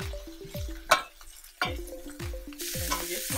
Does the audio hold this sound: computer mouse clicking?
no